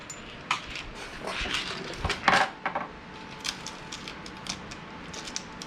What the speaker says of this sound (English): I'll get my screws ready.